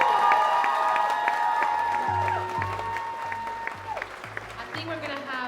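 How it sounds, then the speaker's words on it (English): A crowd applauds and cheers at the close of an onstage interview at a fashion marketplace event, with clapping under a held musical tone and ringing notes, loud at first and fading gradually. "Big round of applause."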